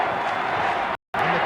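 Rugby league stadium crowd of about 18,000 at a Cronulla Sharks versus Manly Sea-Eagles match, a steady roaring cheer broken by a brief cut to silence before the noise resumes.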